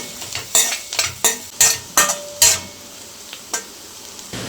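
A spatula scrapes and tosses street-style egg fried rice with mint and coriander in a hot pan: about eight crisp, rhythmic strokes over a low sizzle, then a few lighter knocks as the stirring slows.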